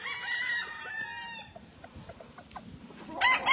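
A gamefowl bull stag on a farm in Magdalena, Laguna, Philippines crows loudly and close, then gives a few short clucks, and starts another crow at the end.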